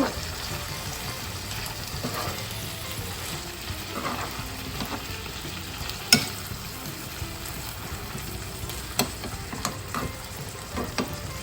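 Ackee and saltfish gets stirred in a frying pan, a soft continuous sizzle broken by occasional scrapes and clinks of the spoon, with no voices.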